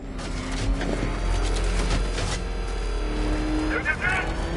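Engine hum of the car in Batman: Arkham Knight driving steadily with shifting revs, close and continuous, mixed with other background effects.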